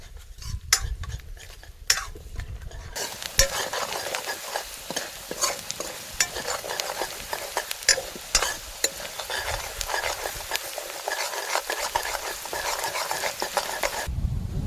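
Whole spices, bay leaves, cloves, peppercorns, star anise and dried red chillies, sizzle in hot oil while being stirred, a dense continuous crackle with spoon clinks and scrapes near the pan.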